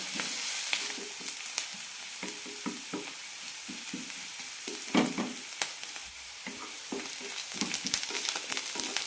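Sliced onions with curry leaves and slit green chillies sauté in hot oil, a faint continuous sizzle broken by repeated spoon scrapes and taps as they are stirred, close by and without talk.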